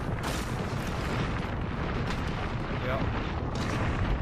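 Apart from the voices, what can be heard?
airstrike explosions in Apex Legends video game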